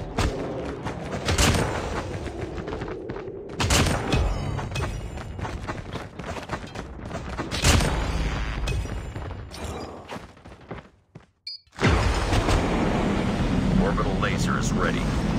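Napalm strikes in a video game throw out a rolling series of loud booms and crackling fire bursts, with aircraft roar and an announcer voice calling out over the din, then a sharp cutoff and the noise resumes.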